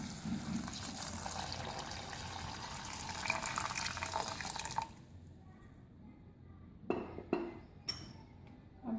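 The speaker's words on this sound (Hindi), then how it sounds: "गिलास पानी शामिल करेंगे।" Water poured into a pan holding apricots for apricot chutney makes a soft liquid rush for several seconds, then gives way to a few faint clinks and drips at low volume.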